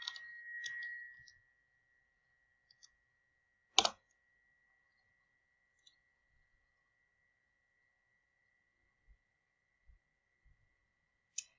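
Mouse clicks toggling camera and microphone settings during a Google Hangouts call setup, a few sparse, faint clicks spread across an otherwise quiet stretch with a steady electronic tone at the start.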